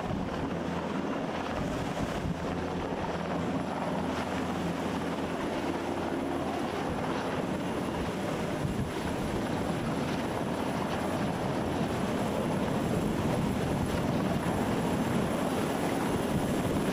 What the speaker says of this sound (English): The helicopter is certainly closing in,